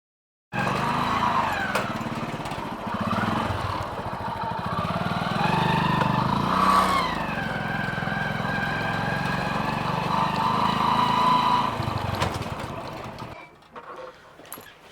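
A motorcycle engine drones steadily while riding, holding an even, close hum for most of the stretch before dropping away near the end.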